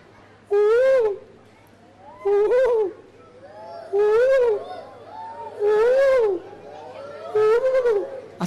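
A mottled wood owl calls five times in a slow, evenly spaced series of loud, wavering hoots, each rising and falling, close and clear against a faint low hum.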